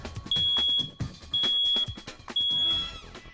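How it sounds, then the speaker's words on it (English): Three loud, piercing electronic beeps from a smoke alarm being tested with its test button, evenly spaced about a second apart, with a brief rustle after the last one. "when was the last time you tested the battery in your smoke alarm?"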